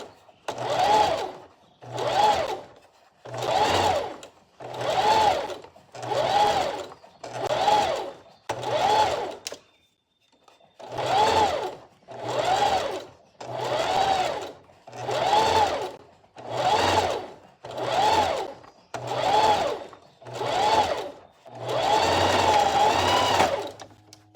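Sewing machine stitching a seam on a baby sitter dress, about fifteen short rhythmic bursts of rapid needle chatter with brief stops between, close and clear, the last run slightly longer.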